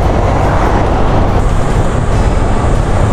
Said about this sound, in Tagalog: Grabe naman yung truck